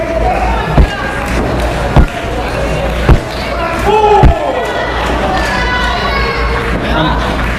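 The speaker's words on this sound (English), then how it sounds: "I was wondering why you were pounding the table" A wrestling commentator pounds on the announce table during a Saturday Night Showcase match, giving four sharp, loud thumps about a second apart over constant arena crowd noise and commentary.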